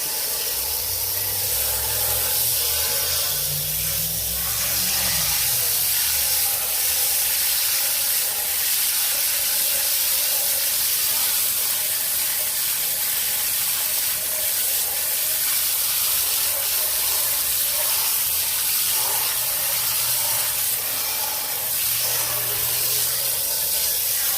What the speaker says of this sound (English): really removed it so that it's just coming off with a hose